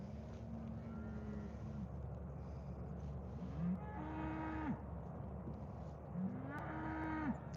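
Cattle low repeatedly at a distance, three drawn-out moos spread across a steady outdoor background hiss on a farm where loose cows are wandering.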